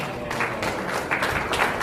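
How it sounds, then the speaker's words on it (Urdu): A hall audience claps steadily for a guest performer at a community program, a dense even patter of many hands that continues throughout with some voices mixed in. "آپ کے بھرپور تالیوں میں مظہر حسین جعفری صاحب"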